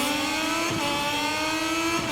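Moto2 racing motorcycles in the MotoGP 22 video game hold high revs on the grid before the start, a steady, buzzing engine drone with no talking.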